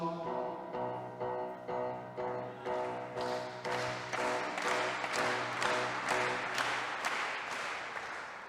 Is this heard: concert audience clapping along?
yes